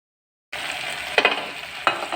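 Potato and broad bean curry cooks in a pan over a low flame with a steady close sizzle, broken twice by short scraping stir clatters.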